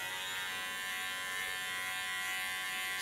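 An electric hair clipper buzzes in a constant, even drone at the back of a woman's natural curly hair, a close but fairly quiet motor hum with no speech.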